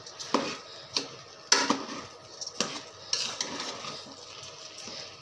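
Food being stir-fried in a pan for iftar, heard as irregular clanks and scrapes of a utensil against the pan at a loose, uneven rhythm, close by over a quiet background.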